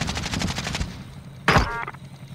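Rapid gunfire in a military shooter game, a steady burst of repeated shots through the first second, then one loud, close blast that fades, with game sounds continuing faintly after.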